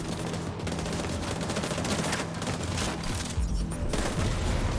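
A hunter fires at the player in an open-world video game, rapid bursts of gunfire crackling continuously at moderate volume against a dense background of game noise, no talking.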